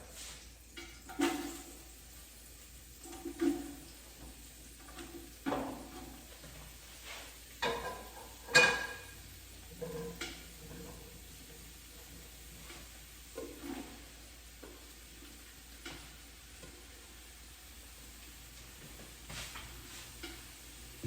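Mushrooms go into a hot pan for mushroom cappuccino soup, giving quiet, intermittent sizzles and soft stirring knocks with pauses between, with no talk.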